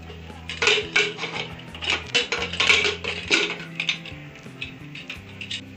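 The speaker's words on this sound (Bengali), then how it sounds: "আমি প্রেশার কুকারের ঢাকা খুলে দিচ্ছি।" Metal clatter and clinks as the lid of a pressure cooker is opened in a home kitchen after boiling elephant foot yam, several close, bright knocks and scrapes in uneven bursts.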